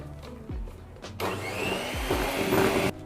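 An electric mixer beats cake batter with liquid milk for a strawberry and cheese crumble cake, giving a loud, steady whirring drone for about two seconds that cuts off abruptly, with no talking.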